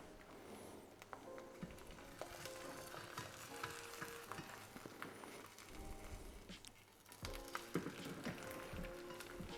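Two flipped eggs fry in a pan for a keto egg roll in a bowl, a close, continuous crackling sizzle with scattered pops and a brief scrape of a spatula partway through.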